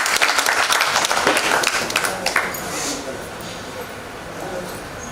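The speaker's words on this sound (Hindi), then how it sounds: "एक बार जोरदार ताली से मैं कहूँगा आप सभी लोग स्वागत करें।" An audience claps loudly together in a welcome at a stage play event, with dense applause that fades gradually over a few seconds.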